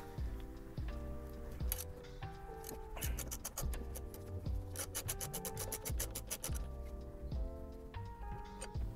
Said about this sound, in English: get your little socket wrench with a 10 millimeter attachment and just